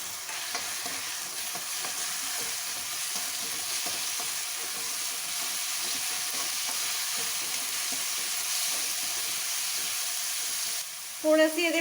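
Onions frying in a pan for aloo gobi, a steady hissing sizzle with light stirring, followed near the end by a brief burst of louder clatter as chopped tomatoes go in.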